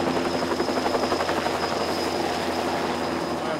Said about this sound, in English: special operations with the helicopter